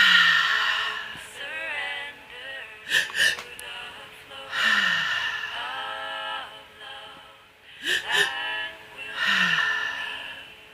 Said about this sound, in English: Breathing into your heart and exhaling through your mouth.